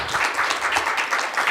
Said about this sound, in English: please make some big applaud for these two speakers